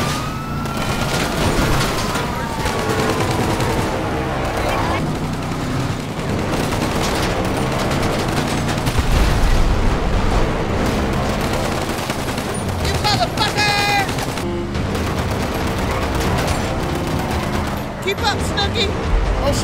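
Rapid bursts of gunfire crackle through a shootout with police, with sirens wailing and voices shouting over the continuous, dense, loud din.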